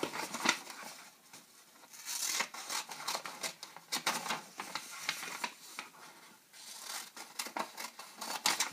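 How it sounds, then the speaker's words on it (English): Scissors snip through a folded paper notesheet in quick, crisp bursts of cutting, a close and fairly soft series of clicks and rustles running steadily throughout with no talk. "start from the right-hand side and cut into the middle"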